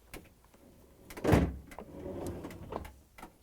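A Samsung freezer drawer slides in on its rails after the rollers are set beneath them, giving one loud rolling thud of roughly a second, then a softer, drawn-out scraping rumble, with light ticks and clicks around it and no one speaking.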